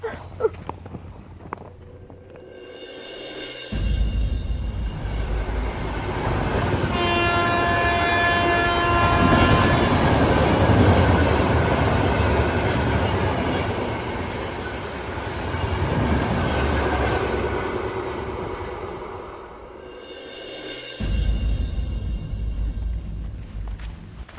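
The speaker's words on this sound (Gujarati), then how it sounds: "આ જો રેલગાડી આવે ને એટલી વાર છે" A train passing on railway tracks, with a deep rumble that swells, holds and fades, tonal horn-like notes over the rolling wheels, and a second loud surge near the end.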